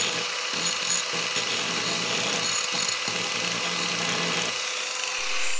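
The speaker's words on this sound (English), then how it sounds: "I'm going to use the angle grinder to file those down" An angle grinder grinds down protruding metal handle screws with a harsh, continuous, loud whine and grating rasp that holds steady for several seconds, heard close and alone without talk.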